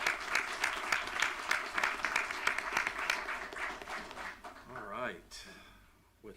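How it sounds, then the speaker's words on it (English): Applause from the audience at a city council meeting, steady clapping for several seconds that tapers off, with a voice speaking over the end as the clapping fades. "Can we give them a round of applause?"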